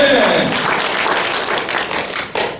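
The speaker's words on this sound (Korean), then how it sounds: "이 좋으신 예수님께 박수로 한번 영광 드리겠습니다." A church congregation at a youth worship service claps loudly in unison after a sermon, a dense sustained burst of applause lasting a few seconds with voices mixed in.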